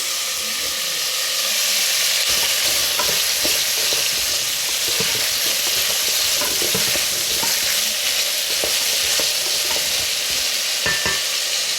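Green beans and other vegetables sizzle steadily in a hot pan while a spoon stirs them, with scattered clicks and scrapes over a constant frying hiss for a vegetable biryani.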